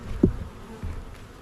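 Honey bees buzz around an open, queenless hive during a late-March inspection, with a close low drone and a brief louder buzz from a bee passing near, over a steady hum of the colony.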